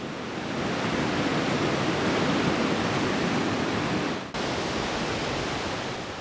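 Close to a waterfall on an Alaskan salmon river, rushing water pours in a loud, steady roar that cuts out for an instant partway through and then resumes. No voices.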